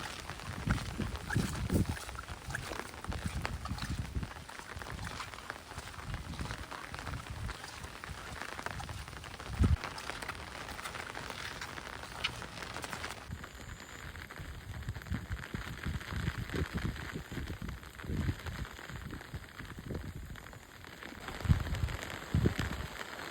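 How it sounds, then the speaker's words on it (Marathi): Heavy rain drums steadily on surfaces in a village during days of downpour and flooding, a continuous dense patter with scattered louder drips and splashes close by, no voices. "पाऊस काय थांबण्याचं नाव घेत नाही"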